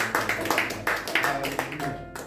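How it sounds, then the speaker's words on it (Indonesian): Congregation clapping during a church sermon, a rhythmic run of loud claps in unison with brief pauses between bursts. "Baik, sekali lagi kita tepuk tangan."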